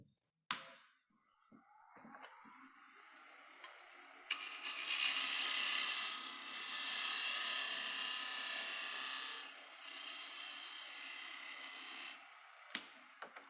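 A carbide lathe tool cuts a cove in dry maple: a sharp start, faint scraping, then a loud, sustained rasping cut lasting about eight seconds that eases off, followed by a few clicks.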